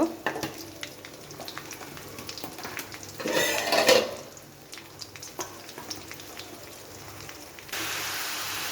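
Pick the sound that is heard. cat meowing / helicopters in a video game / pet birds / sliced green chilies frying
sliced green chilies frying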